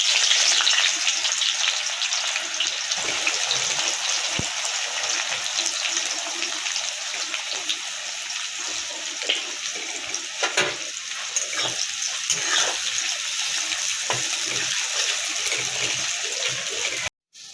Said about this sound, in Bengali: এবার তেল গরম হয়ে গেছে, এবার পেঁয়াজগুলো দিয়ে